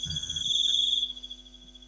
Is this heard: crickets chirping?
yes